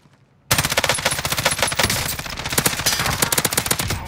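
Rapid, sustained automatic gunfire from an M13 rifle in the video game Call of Duty: Cold War Warzone bursts in loud after a brief quiet start and keeps firing in a dense rattling stream.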